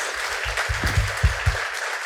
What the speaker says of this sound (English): If we can give these ladies a round of applause